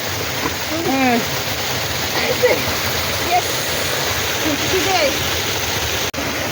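Continuous rushing water roars steadily from a waterfall on a river in Northeast India, with a voice speaking briefly over it.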